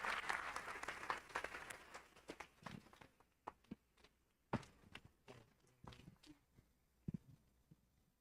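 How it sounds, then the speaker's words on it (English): Audience at a township board of education meeting applauding retiring transportation staff, applause that is strongest at first and thins out to scattered, individual claps and soft knocks, fairly distant and quiet. "Let's give another round of applause to our transportation retirees."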